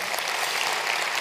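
Short stretch of dense audience applause at a risk-management conference in France, greeting a speaker called to the stage; a steady wash of clapping at moderate level, with no speech heard.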